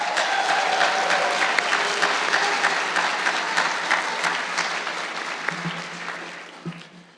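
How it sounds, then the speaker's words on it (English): A large audience at a college humanities graduation convocation gives a warm, sustained round of applause that stays dense and full before slowly thinning out. "You also deserve a warm round of applause from all of us"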